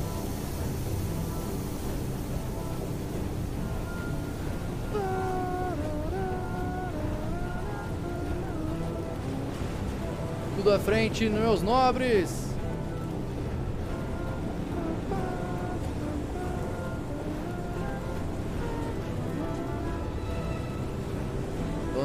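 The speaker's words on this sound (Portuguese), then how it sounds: "O som parece chuva de verdade, mano." A steady, loud rainstorm in the video game Far: Changing Tides hisses as a dense wash of noise throughout, with a voice and some tonal game sounds briefly rising over it midway.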